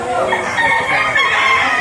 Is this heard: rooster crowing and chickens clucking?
yes